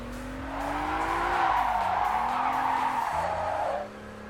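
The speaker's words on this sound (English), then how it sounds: "The car is gonna just drift itself." A car drifts in the video game Test Drive, its tyres skidding with a loud sustained squeal over a revving engine whose pitch rises and dips through the slide.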